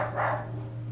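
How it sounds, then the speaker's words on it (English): Dogs bark indoors, a short muffled burst near the start followed by a fainter trailing yelp, over a steady low electrical hum with no talking. "Dogs are going crazy."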